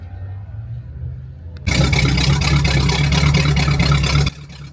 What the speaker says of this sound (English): Turn down that Olds rocket engine in the Omaha Coupe.